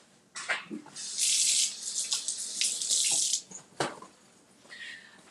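Tap water runs steadily into a sink while hands are washed beneath it, a loud close rushing stream that shifts as the hands move, with a few clatters before it and a brief splash near the end.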